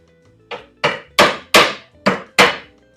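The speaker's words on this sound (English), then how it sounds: "I still need to hammer that a hair" Six sharp hammer blows drive nails into a pallet-wood apple crate built with hand tools, struck close by in an uneven rhythm, each impact loud and ringing briefly before the next.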